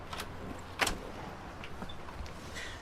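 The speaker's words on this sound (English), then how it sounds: "I put the key in the door and opened it." Key in a house door lock and the door opening as a radio drama sound effect: a few quiet clicks and a sharp metallic rattle, then faint scraping as the door swings.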